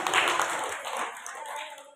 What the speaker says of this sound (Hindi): आपने अपने आप में ताली बजाई।